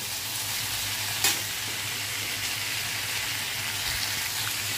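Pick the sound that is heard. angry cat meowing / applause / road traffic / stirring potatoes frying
stirring potatoes frying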